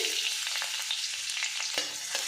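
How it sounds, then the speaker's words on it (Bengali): Chopped garlic sizzles and fries in hot oil in a wok for a spinach and eggplant dish. The hiss is steady and close, with light stirring scrapes and no talk. "রসুনটা দিয়ে একটু ভাজা ভাজা করে নেব যাতে তেলের মধ্যে একটা রসুনের ফ্লেভার চলে আসে"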